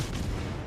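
Naval gunfire from warships in the video game World of Warships, a dense, booming rumble of heavy artillery that stays loud and sustained across a brief moment, with no voices over it.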